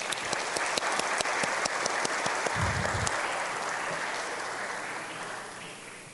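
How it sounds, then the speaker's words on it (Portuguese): Sustained applause from a gathering at a parliamentary front session, steady clapping filling the room for several seconds and slowly easing toward the end. "vou pedir uma salva de palmas para os meus colegas"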